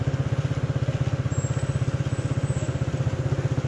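A motorbike engine runs at a steady idle near the Dai Nam tourist area and racetrack in Vietnam, a loud, close, evenly pulsing chug that lasts throughout with no talking.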